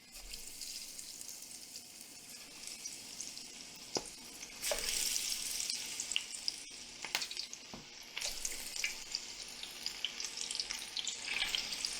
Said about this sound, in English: Going in with our lightly coated onion.